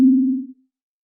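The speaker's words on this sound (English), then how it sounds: "Let's turn on the sine wave of Oscillator 1" A single pure sine tone from Oscillator 1 of the Swiss synthesizer, loud and clean with a sharp click at onset, holding steady for about half a second before fading out into silence.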